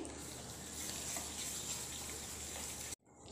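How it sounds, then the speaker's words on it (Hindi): Oil being stirred into moong dal batter for barfi, a soft continuous wet churning and scraping in a bowl, quiet and close, stopping abruptly near the end. "वन फोर्थ कप ऑयल इसे मिक्स करेंगे"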